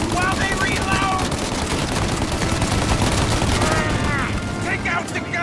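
Heavy gunfire during a shootout in Mafia: Definitive Edition, continuous loud automatic bursts and shots filling the whole stretch, with shouting voices mixed in.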